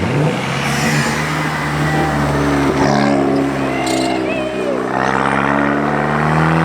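A car engine screams near the rev limiter while doing donuts, a loud sustained roar with wavering pitch and tire squeal rising over it, no one speaking.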